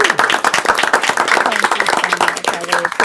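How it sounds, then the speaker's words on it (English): An audience at a state education board meeting claps steadily for an honored teacher, close and lively, with voices talking over the applause throughout. "So if we can give her a round of applause."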